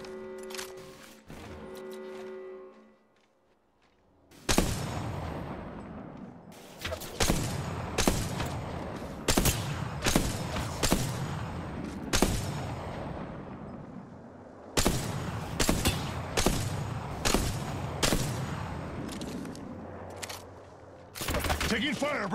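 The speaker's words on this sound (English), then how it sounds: "Taking fire, brothers!" Gunfire rings out in an Apex Legends ranked arena firefight, with loud, close bursts of sharp shots in irregular clusters after a quieter opening and brief pauses between volleys.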